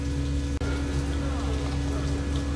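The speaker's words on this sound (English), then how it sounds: "It's raining, just like outside." Steady rain patters continuously in the Path of Evil video game, a dense even wash of drops over a low droning hum, close and unbroken apart from one brief dropout.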